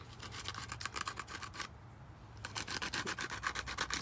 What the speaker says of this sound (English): Same thing, you just sandpaper it.